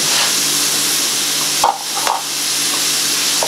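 Shrimp frying in a pan for shrimp and grits, giving a steady, close hiss of sizzling with a couple of brief clinks or stirs partway through.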